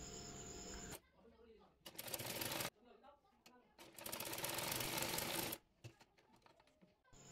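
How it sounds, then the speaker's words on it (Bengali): A sewing machine stitches the folded neckband fabric of a blouse in two close, steady runs of rapid mechanical clatter, with a person speaking in the quieter gaps before, between and after. "এবার গলাপট্টির কাপড়টি মুড়িয়ে সেলাই করে নেব।"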